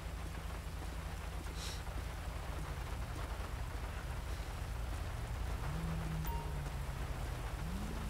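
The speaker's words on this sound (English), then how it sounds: "It's raining out" Rain falls in Grand Theft Auto V during a police traffic stop, a steady wash of drops on surfaces with low rumbling underneath and a few brief tones rising through it, without any talking.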